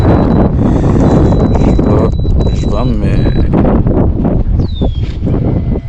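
Strong wind buffets the microphone on a lake during bass and pike fishing from a boat, a loud continuous roar under a man's speech, with faint bird calls.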